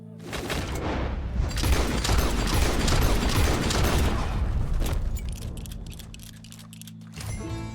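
A burst of close gunfire in Red Dead Redemption 2 mixes with a dense, booming rumble of action for about five seconds, then fades into quieter ticking and mechanical game sounds.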